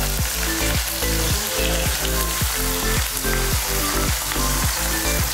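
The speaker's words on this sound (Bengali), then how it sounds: "বাদামি করে ভাজবো পেঁয়াজটাকে" Onions fry in hot oil until brown, a loud, close, continuous sizzle with crackling and irregular clicks of stirring, and no voices.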